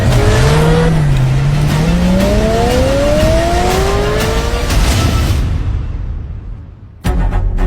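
A new Land Rover's tyres squeal in a long, loud skid, the pitch sliding up and down, before the car stops abruptly in a brief quiet gap and the roar returns.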